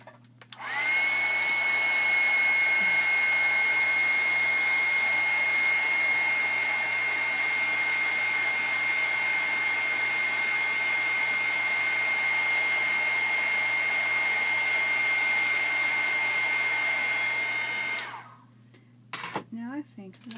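A hair dryer runs for about seventeen seconds to dry a handmade card, a loud, steady whirring blow with a thin whine, then cuts off leaving brief faint handling noises.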